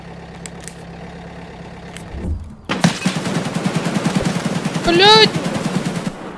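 Automatic gunfire in Escape from Tarkov on the Customs map erupts as a rapid, loud, continuous burst after a quieter stretch, with a man swearing over it.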